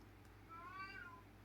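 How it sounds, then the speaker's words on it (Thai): A cat meows once softly in the background of a quiet room, a short rising-falling cry, faint and heard alone without speech. "มีเสียงแมวมาด้วยตอนนี้"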